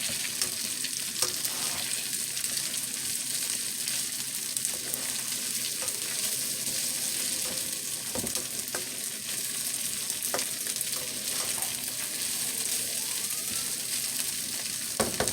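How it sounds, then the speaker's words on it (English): Steady, dense sizzling of rice stir-frying in oil, with occasional scraping stirs and light clinks throughout, no voices. "so we're just frying this around"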